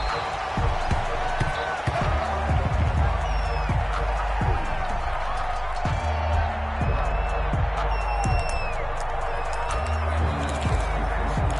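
Stadium crowd at a Chicago Bears versus Dallas Cowboys NFL game, a steady roar with scattered whoops, claps and thumps running throughout.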